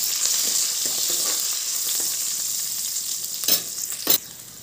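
Fenugreek powder frying in a pan for mango dal gives a steady bright sizzle up close, with scraping stirring strokes and two louder spoon clanks near the end.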